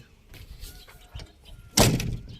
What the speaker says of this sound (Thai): ประตูปิดนิ่มๆเลยนะครับคันนี้